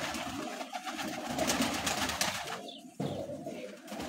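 Pigeons on a rooftop loft, soft cooing and bird calls over steady background noise, with a brief knock or thump near the end.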